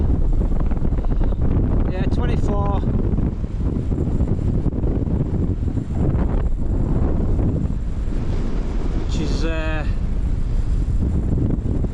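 Gusty wind buffets the microphone on a hillside just below the summit of the Maiden Paps in the Scottish Borders, a steady roar blowing from the southwest at around 24 mph, with people talking through it.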